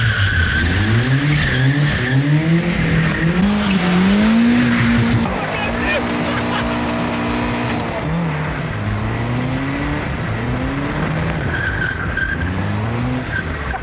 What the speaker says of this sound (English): It's still sliding! It's got less than half of the grip that it had